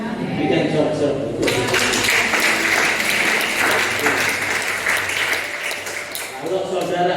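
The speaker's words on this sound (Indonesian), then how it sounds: "Berikan sorak-sorak." A church congregation at GPdI Eklesia in Pendolo, Central Sulawesi, bursts into loud applause and cheering during a sermon, sustained clapping that fills the room for several seconds before fading slightly.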